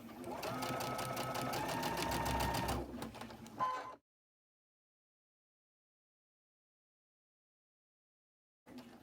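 Sewing machine stitching a quilt: a steady, close mechanical whirr for about three seconds that slows and stops, then silence, with a brief restart at the very end.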